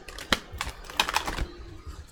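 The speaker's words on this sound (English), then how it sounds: "while I'm shuffling this deck" An oracle card deck being shuffled by hand gives a brief run of crisp, close papery flicks and taps in quick, irregular bursts.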